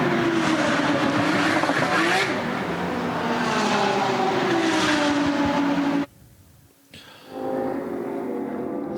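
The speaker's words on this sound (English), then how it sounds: "They're dropping it back onto the pit apron now and fired up" A race car at the Hankook 24H Barcelona endurance race is lowered onto the pit apron, fires up and pulls away, its loud engine roar rising then cutting out briefly before returning with a strong drone.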